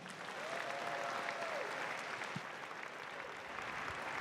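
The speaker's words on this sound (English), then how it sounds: "let's give him a round of applause" A university event audience in a lecture hall applauds a speaker being introduced, steady broadband clapping filling the room throughout, with a brief whistle-like tone early on.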